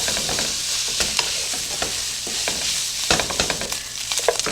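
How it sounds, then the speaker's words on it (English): Minced garlic frying with ground beef in a hot skillet, a dense close sizzle filling the whole stretch while a spoon stirs and scrapes through it in irregular knocks and shuffles. "I'm going to add 1 teaspoon of minced garlic. I'm going to stir this around and cook this for about 1 minute."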